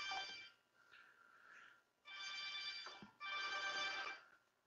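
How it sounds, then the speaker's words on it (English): Several Snom M500 desk phones ring at once, an electronic ringtone sounding in three bursts with short gaps between them, clear and fairly loud in a quiet room. "all the phones are ringing at the same time"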